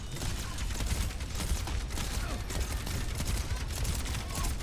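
Sustained gunfire from a top-level Overwatch 2 match, a steady rattle of automatic shots with game effects, continuous and moderately loud with no pause.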